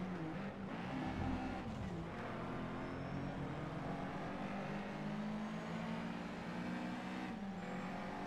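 Car engine racing in the Need for Speed Shift video game, a sustained engine drone with rising and falling revs and faint tire noise, steady and moderately loud throughout with no speech.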